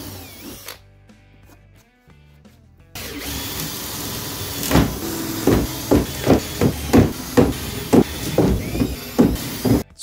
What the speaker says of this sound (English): A 5/32 drill bit makes pretty quick work for the rivets.